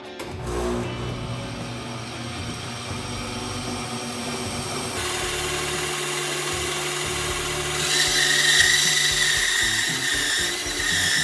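A power tool cuts through a wooden board as a continuous, loud whirring grind that turns harsher and brighter partway through and keeps going for about eleven seconds without speech.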